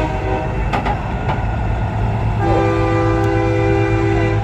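Big trucks in a nighttime light-parade convoy at a truck show blast long, deep air horns that hold steady over a loud rumbling engine and road drone, with no voices.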